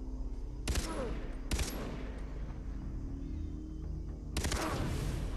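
Three sharp bursts of gunfire in the video game Far Cry 3 on Xbox 360 break out, two close together early and one later, over a low rumbling game soundscape.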